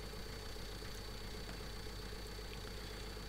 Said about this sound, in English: 4-cylinder. Probably a Perkins engine or something.